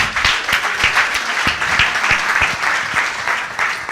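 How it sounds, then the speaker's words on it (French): An audience at a live forum event on French cinema applauds steadily throughout, a dense, loud wash of clapping with a few sharp individual claps standing out close by. "Merci, vous pouvez l'applaudir Rachid."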